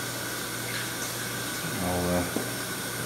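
Cold tap water runs steadily while a whole chicken is rinsed at a kitchen sink, a constant close hiss with a brief shift in tone as the stream hits the bird.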